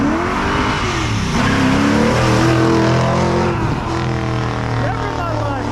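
An Acura NSX sports car revs and accelerates hard, loud and close, with other engine noise blending in and people's voices shouting over it.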